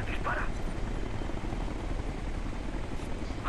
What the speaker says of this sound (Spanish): Veo un helicóptero enemigo.